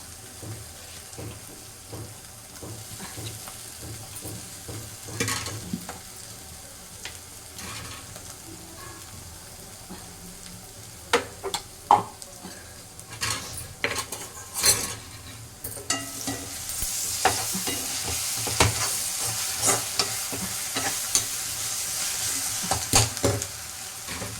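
Onions with ginger garlic paste and curry leaves frying in a pan for a chicken curry, a soft continuous sizzle with scraping stirs and clinks, growing louder toward the end.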